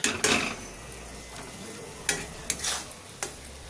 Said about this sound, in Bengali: খুব ভালো করে চিনিটা দিয়েছি মিশিয়ে নেবো